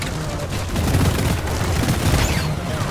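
Automated turrets in Deep Rock Galactic firing rapid, overlapping bursts with dull booming impacts, a steady loud clatter that continues throughout without speech.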